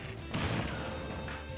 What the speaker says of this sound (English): look out for these S smashes by Brad.